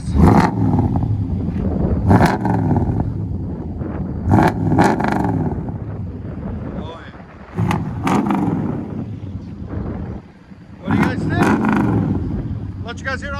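A 1994 Chevy 1500 with a cammed LT1 V8, long tube headers and true dual Flowmaster exhaust revs in repeated sharp bursts, loud and close, with lulls between throttle blips and some wind noise.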